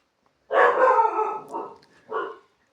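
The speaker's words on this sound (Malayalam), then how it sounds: "കിടന്ന് കുരയ്ക്കുന്നുണ്ട്" A dog barks nearby: one long rough bark followed by two shorter ones, then quiet.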